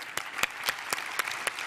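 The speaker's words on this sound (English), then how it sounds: "I propose an applause for the speakers." A small audience at a European conference applauds the speakers with sparse, spaced claps, a handful of distinct hand claps at a steady pace, moderately near.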